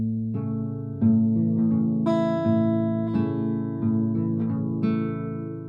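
Acoustic guitar Travis-style fingerpicking on the low four strings in a steady alternating-bass pattern, low strings thumping evenly beneath plucked higher notes, played slowly and clearly with notes ringing over each other.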